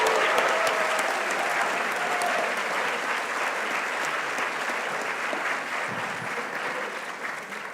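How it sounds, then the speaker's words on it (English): Sustained audience applause at a high school academic awards ceremony, a dense, steady clapping from a large crowd that gradually tapers off over several seconds. "Let's give these students a round of applause."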